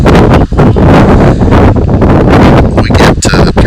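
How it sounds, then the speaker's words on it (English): Strong wind gusts of about 25–30 mph pound a microphone at an outdoor baseball field, a loud, continuous rumbling buffet with brief dips and surges and no clear talk. "We get periodic wind whips in here, wind gusts I should call them, of I'm going to say 25-30 mile an hour"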